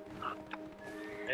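A horse whinnies in the online game Black Desert during a fortress node war, a short, fairly faint neigh amid game effects while players talk over it.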